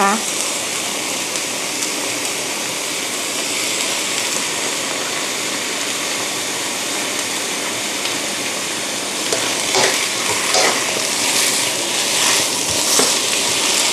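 Black tofu is stir-fried in a pan for a vegetarian dish, with a dense, continuous sizzle and hiss close by that grows a little louder and more crackly near the end.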